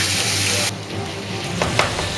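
Food fries in hot grease with a loud, close sizzle and spatter. The roar drops abruptly partway through, and sharp pops and bursts continue afterward.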